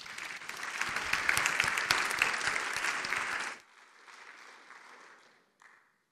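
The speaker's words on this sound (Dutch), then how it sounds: "Mag ik een hartelijk applaus voor Kevin Groen." Dense, hearty applause from the audience at a university lecture and literary prize ceremony, filling the room for several seconds before cutting off abruptly into a faint tail of scattered claps.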